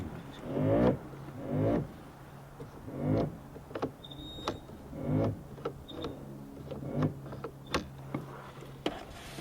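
A Vectrix electric scooter's motor strains in reverse during reassembly, giving a repeated rhythmic whirring hum that surges and fades about once a second. Faint clicks and ticks sit between the surges, with no talking.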